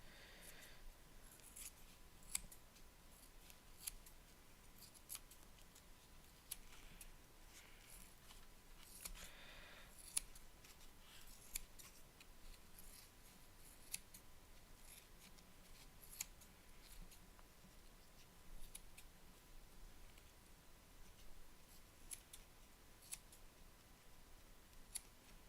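Scissors trimming a handmade mask, a long run of faint, close snips and small paper or material rustles at an uneven rhythm, quiet throughout.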